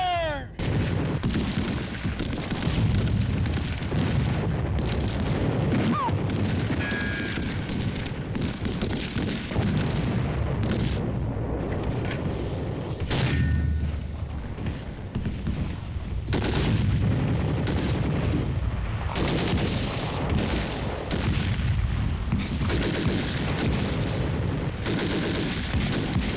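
Sustained battle gunfire from an old war film, with loud, dense volleys of rifle and artillery-like shots rolling continuously and booms standing out at points, with no clear speech over the din.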